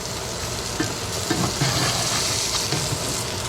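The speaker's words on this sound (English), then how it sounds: "We're gonna flip the fish over the other side" A blackened coho salmon fillet sizzles loudly in a hot pan as it is flipped with a spatula, a steady crackling fry with a few sharper scrapes and pops along the way.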